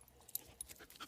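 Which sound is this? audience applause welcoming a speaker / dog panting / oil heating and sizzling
dog panting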